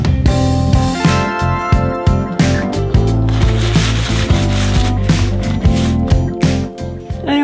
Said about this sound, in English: Time to try out my new sander.